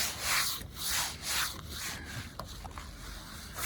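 Rhythmic rubbing strokes on contaminated car paint, a rough, sandy scrape repeating back and forth, close and fairly faint.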